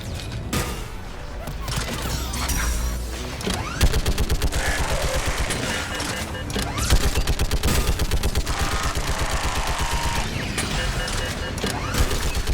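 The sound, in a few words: turret gunfire in the video game Mass Effect 3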